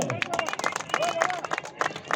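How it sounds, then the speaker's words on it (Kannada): Scattered clapping from a small crowd at a local cricket tournament, uneven and moderately loud, with bits of background chatter. "ಮತ್ತೊಮ್ಮೆ ಜೋರಾದ ಚಪ್ಪಾಳೆ"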